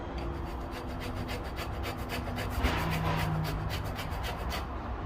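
An orange peel is zested on a small cheese grater, giving steady rhythmic rasping strokes, close and fairly loud, for the whole stretch with no talk.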